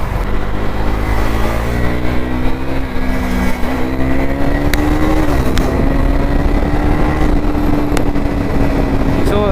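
A motorcycle fitted with an Akrapovic exhaust rides at speed on a night road, its engine droning loud and steady, with the pitch rising and shifting through the gears.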